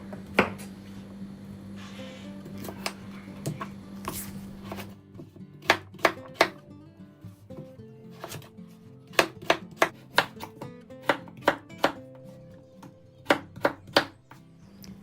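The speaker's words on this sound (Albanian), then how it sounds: "Patatet janë mesatare, të cilat do t'i prem në formë kubike" Six medium potatoes are cut into cubes with a knife on a board, giving sharp, irregular chops that speed into quick runs. A low hum sits underneath.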